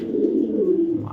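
A pair of racing pigeons gives a single soft, throaty coo up close, a low, rolling call lasting about a second with no one talking.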